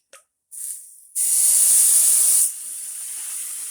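Two cups of vegetable broth poured into a hot pan of browned ingredients, with a brief sizzle followed by a loud, sustained steam hiss that drops to a steady, softer hiss near the end.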